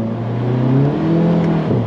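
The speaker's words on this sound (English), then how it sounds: "let's do a little pull with it. Whoa. Spinning tire." A Volkswagen GTI with stage 1 tuning pulls hard from close inside the cabin, its engine note droning steadily and rising in pitch, with a slight dip near the end as the tires spin.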